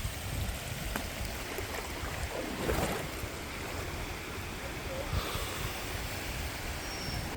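A cold mountain stream flows along a rainy hill trail at Parunthumpara, a steady broadband rush of water heard close and continuous, with no voices.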